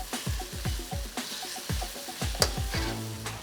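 Hokkien mee noodles frying with soy sauce and cooking caramel, a continuous sizzle broken by rhythmic scraping and tossing strokes of a spatula in a hot wok, close and fairly loud.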